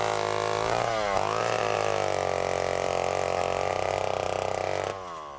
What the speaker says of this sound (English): the humming chainsaws replaced sounds of knocking branches and blowing debris